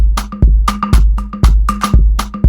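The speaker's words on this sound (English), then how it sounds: "Other shakers." Shakers layered with conga and other percussion in a groovy Afrobeat-style instrumental, a repeating rhythmic pattern of crisp rattling hits over deep thumping beats, loud and steady with no talk.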